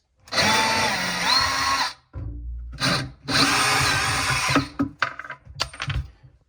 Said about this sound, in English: I'm going to find and remove any screws that might be holding the vanity to the wall or securing the top to the vanity base